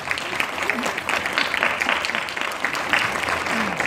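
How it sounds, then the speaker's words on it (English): Audience applause at a 2016 civil rights and racial justice gathering: a dense, steady wash of clapping that holds at an even level for about four seconds, with a faint voice sitting beneath it. "we have to applaud that"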